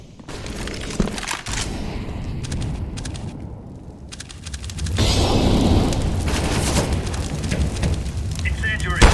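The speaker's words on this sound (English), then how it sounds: "Deploying flashbang." A flashbang grenade detonates in Call of Duty: Warzone amid a dense barrage of gunfire and booms, and the din swells louder and fuller midway through, with voices calling out under the noise.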